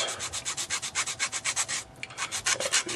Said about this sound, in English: I'm going to sand the shit out of it and see if that helps